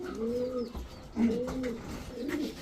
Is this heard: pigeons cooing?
yes